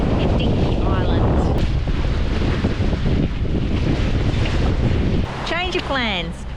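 Strong wind buffeting a Lagoon 450 sailing catamaran out in an open bay, a loud continuous roar of wind across the microphone with water wash beneath, easing slightly near the end.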